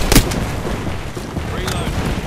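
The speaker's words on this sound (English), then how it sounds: "Launching me knuckle cluster" Fuse's Knuckle Cluster launching in the Apex Legends video game, a sharp burst of explosive popping near the start followed by a dense, noisy wash of gunfire and blasts.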